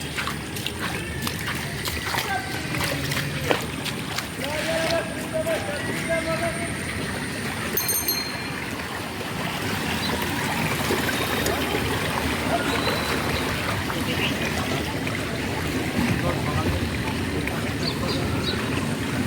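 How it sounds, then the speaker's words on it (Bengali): An e-bike rides through standing rainwater, tires hissing and splashing in a steady wash with faint trickles, while people talk over the continuous watery noise. "সো আমরা পুরো জলের ওপর দিয়ে এসেছি"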